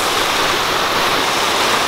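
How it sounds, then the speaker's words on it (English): Mountain stream water in Sakarya flows loudly and continuously, a close, steady rushing wash with no pauses. "There's this, all this water that comes from top of the mountain"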